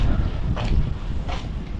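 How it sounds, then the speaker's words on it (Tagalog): Wind gusts buffet the microphone in low, blustery rumbles, with two brief swells of rushing air and no talking. "Oh, hangin."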